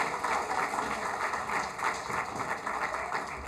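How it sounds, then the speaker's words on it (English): Steady, moderately quiet applause from the audience at a Board of Education awards ceremony, greeting the Richard Montgomery Jazz Combo, a continuous texture of many hands with a faint steady hum beneath. "Yes, give them a round of applause."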